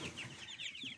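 Broiler chicks peep in a home-made brooder, a busy overlapping chorus of thin, high cheeps, fairly quiet and close, with no talking.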